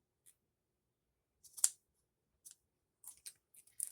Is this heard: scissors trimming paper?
yes